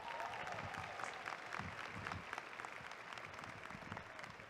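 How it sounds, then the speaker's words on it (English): A crowd at a high school commencement claps, a continuous spread of applause heard from some distance, fairly faint, with a few murmuring voices beneath. "Let's give them a round of applause."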